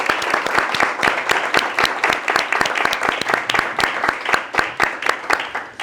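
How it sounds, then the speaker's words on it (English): Lecture audience applauding at the close of a philosophy talk, a steady stream of sharp individual claps from a modest group, fairly close and even in loudness throughout. "And an applause."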